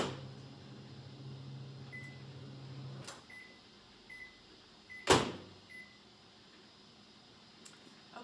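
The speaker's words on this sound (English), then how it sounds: "Okay, third round in the microwave." Microwave oven running while melting chocolate, a steady low hum with faint high tones, a sharp door or latch click partway through, fairly quiet and close.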